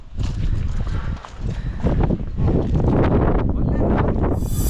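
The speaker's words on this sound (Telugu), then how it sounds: "ఫ్రెండ్స్ గాలి ఉంది, విపరీతంగా ఉంది, చాలా ఎక్కువ ఉంది గాలి." Strong wind roars and buffets the microphone continuously at the top of Korigad Fort during a trek, loud and unbroken from start to finish.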